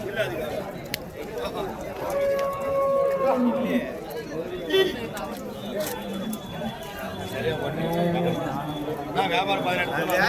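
Native cattle at the Vaniyambadi cattle market low and moo amid a busy crowd, with people chattering and talking close by throughout.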